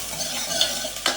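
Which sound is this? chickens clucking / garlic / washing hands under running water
garlic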